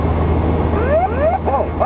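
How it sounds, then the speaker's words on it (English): Ground proximity warning alert in a Kingfisher Airlines airliner cockpit during an unstabilized approach: repeated rising, whooping electronic tones over steady broadband cockpit noise. "The ground proximity warning issued continuous warnings until touchdown."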